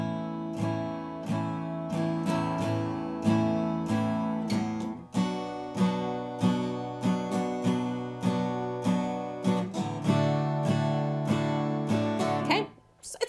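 An acoustic guitar strums a simple down-down-down-down-up pattern for a song, with even, rhythmic strokes ringing out clearly and alone, with no talking over it.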